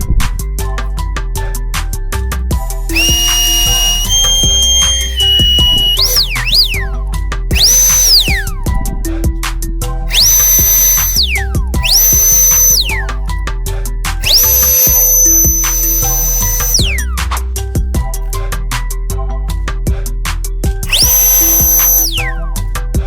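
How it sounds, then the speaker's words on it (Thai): A CANLIDI CIBL 300 brushless turbo blower runs loud and close, its motor whine climbing and dropping in pitch as the speed is changed again and again over a constant rushing airflow. "ผมพยายามเล่นกับระดับความเร็วของเขานะครับ มันก็เลยมีเสียงที่เปลี่ยนเปลี่ยนดูไปบ้างครับ"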